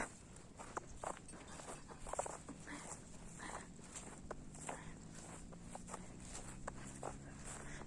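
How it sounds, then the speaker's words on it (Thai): Soft, irregular hoof and footstep patter of cattle being herded moves across the ground at a distance, with faint ambient hum underneath. "น้องบอมกำลังต้อนวัวนะคะ"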